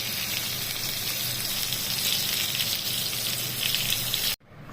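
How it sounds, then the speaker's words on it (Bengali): Potatoes seasoned with salt and turmeric frying in oil, a steady dense crackling sizzle that holds evenly and then cuts off abruptly at the end. "আলুটা ভেজে তুলে রাখলাম"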